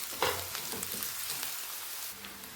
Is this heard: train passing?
no